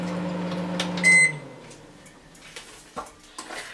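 A microwave oven roasting sunflower seeds hums steadily, then beeps and stops, followed by faint clicks and clunks as its door is handled.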